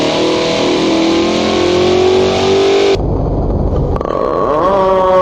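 A Dodge Charger engine revs loud and close with a rising pitch, then cuts off abruptly into a lower rumble before revving up again.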